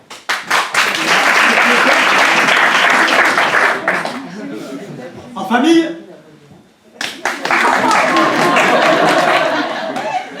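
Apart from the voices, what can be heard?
audience applause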